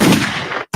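Gunshot sound effect, a single loud close blast with a sustained roaring tail that cuts to silence, followed by another sharp burst.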